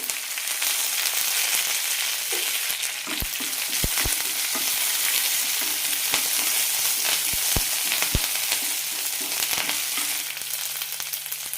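Chopped green chilli, ginger and curry leaves sizzle steadily in hot oil, a dense continuous crackle with occasional sharp pops and spatters throughout, no voices.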